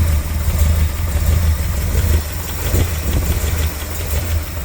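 A 1970 Dodge D100 truck engine idles loudly and close by with an uneven, loping rumble that rises and falls in a slow rhythm.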